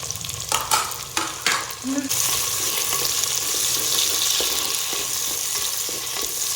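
Garlic, green chilies and curry leaves fry in a pan for a Madurai-style ayirai fish curry, giving a steady close sizzle with a few stirring knocks early on and no talk.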